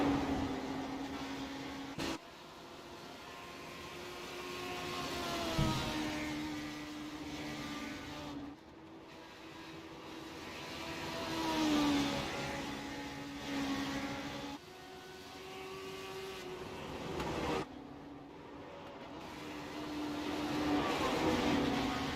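Legend cars racing around a track on a family night, engines droning steadily with rising and falling revs as the pack passes, fairly distant and continuous throughout.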